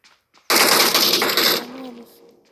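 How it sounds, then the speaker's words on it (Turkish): A burst of rapid automatic gunfire from the PUBG battle-royale video game, loud and sharp for about a second before trailing off, with faint voices around it. "Sen kimin adamına lan kursun sıkıyorsun senin?"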